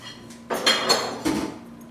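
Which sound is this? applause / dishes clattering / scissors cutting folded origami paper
dishes clattering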